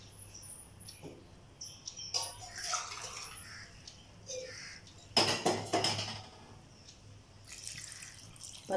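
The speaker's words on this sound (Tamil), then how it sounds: "நான் 2 டம்ளர் தண்ணி சேர்த்துக்கிறேன்." Water poured into a pot for crab soup in a home kitchen, with faint trickling and dripping amid clinks of pots and utensils, fairly quiet and close, no talking.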